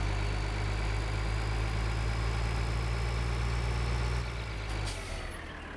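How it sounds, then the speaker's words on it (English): Tractor engine in Farming Simulator 2013 labouring up a hill, a steady loud low drone with a constant hum that drops and thins near the end, no speech. "This tractor's struggling up this hill."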